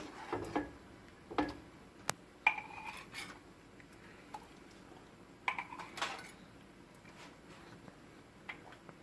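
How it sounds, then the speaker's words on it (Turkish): A spoon stirs black mulberry marmalade in a pot: sparse, quiet clinks and light knocks against the pot's side, arriving irregularly a few seconds apart over a faint background. "Arada bir böyle karıştırmamız gerekiyor."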